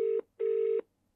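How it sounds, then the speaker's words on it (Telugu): Telephone call being dialed: two steady electronic tones from a phone line, a short beep then a longer one, clear and close with silence after. "సో సెకండ్ టైం కూడా మీకు కాల్ చేసి వినిపిస్తున్నాను లైవ్లో."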